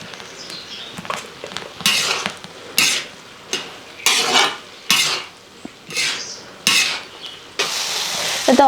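Sprouted beans and grated coconut being stir-fried for a Kerala thoran, with repeated scraping stirs of a spoon against the pan over a steady sizzle, close and fairly loud with rhythmic bursts.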